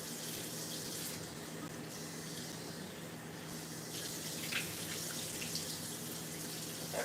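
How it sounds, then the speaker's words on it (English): Vegetables being rinsed under running water, a steady close splashing flow from a tap with small bubbling surges, no talk. "I'll force them out to rinse them and rinse the other ones in the can"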